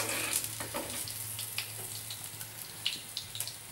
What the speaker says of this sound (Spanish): Y los ajos, lo mismo. Se doran un poco.